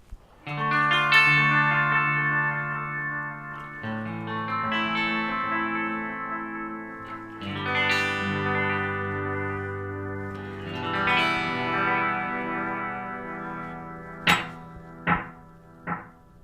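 Guitar chords played through a Boss DD-7 pedal in analog delay mode, each one followed by echoing repeats that die away fairly quickly; a few short muted string hits come at the close.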